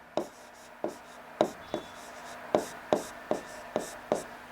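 A pen taps and scratches across paper in short, regular strokes, each a crisp close tick followed by brief scraping, about a dozen in quick rhythm with no voices.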